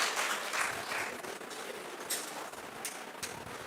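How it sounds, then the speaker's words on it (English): Audience applause at a valedictory function, a steady wash of clapping throughout with a few sharper claps standing out, moderately faint and with no talking. "Big rounds of applause for Chairatan ma'am."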